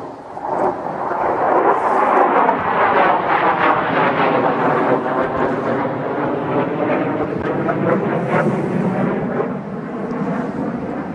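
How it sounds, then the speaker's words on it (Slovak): A fighter jet roars overhead in the Donbas, a loud sustained rumbling whoosh that swells early, holds, and slowly fades over about eleven seconds with no one talking. "práve nad nami preletela stíhačka."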